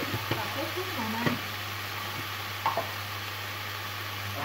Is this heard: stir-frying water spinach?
yes